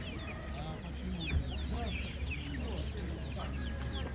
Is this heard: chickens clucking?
yes